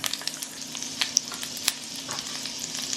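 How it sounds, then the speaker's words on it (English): Onions frying in oil in a pan over medium-high heat give a steady close crackle and sizzle, with sharp pops scattered throughout and no voices. "I've got some oil I'm gonna pour into this pan right here, and I've got it over about medium to high heat. We're gonna add our onions."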